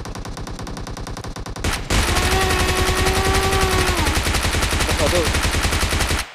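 Automatic gunfire in the mobile battle-royale game PUBG Mobile rattles in rapid continuous bursts, growing louder partway through alongside engine-like drones, while a player speaks briefly over the shooting.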